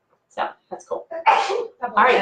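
A person sneezes sharply in a lecture room about birds, a quick burst amid nearby speech, with talking before and right after.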